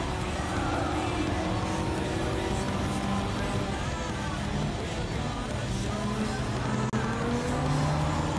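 Race cars in Gran Turismo 7 roar continuously on track, loud engine notes rising and falling through gear changes with layered revving from several cars, up close.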